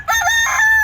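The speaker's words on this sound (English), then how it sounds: "little naked neck right here, this is a rooster." A naked neck rooster crows once, loud and close, a clear sustained cock-a-doodle-doo alone without talk.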